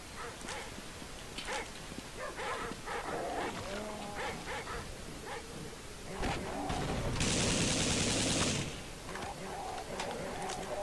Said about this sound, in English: So hopefully these dogs don't troll me